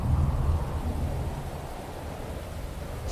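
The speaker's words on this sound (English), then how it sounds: "Wait out the storm in the shelter." A thunderstorm in the horror game Anthology of Fear: a low, rolling rumble of thunder that fades over a steady wash of rain-like noise, continuous with no voices.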